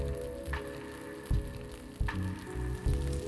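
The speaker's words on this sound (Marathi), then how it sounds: "वरतून डोसे आपले थोडे ड्राय होत आले की आपण त्यावर थोडंसं तेल सोडूया" A fasting dosa sizzles in oil on a hot pan, a constant close crackling fry with a few sharper pops and hisses, no talk.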